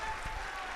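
A Bageshwar Dham audience answers with a short, dense burst of clapping, heard as a brief patter of hands.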